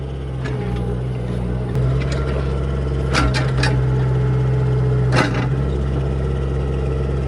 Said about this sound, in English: he's doing a pretty good job driving the excavator